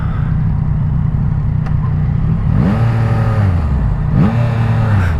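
A 2025 Yamaha MT-09 Y-AMT motorcycle engine revs hard twice against its rev limiter, each rise climbing quickly and holding near the top over a steady roar of riding noise.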